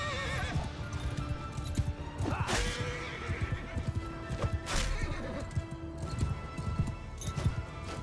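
Horses neigh and whinny amid clip-clopping hooves and crashing clashes in a battle from the video game Mount & Blade II Bannerlord, several loud whinnies rising over a busy, continuous din of hooves and combat.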